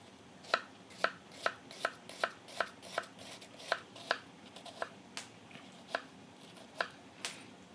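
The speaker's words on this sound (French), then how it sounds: "donc j'ai d'abord coupé des grandes tranches, ensuite je reprends dans l'épaisseur et je crée aussi d'autres tranches." A knife chops onion on a cutting board nearby, making a run of crisp, fairly regular taps, roughly two per second, with no talking over them.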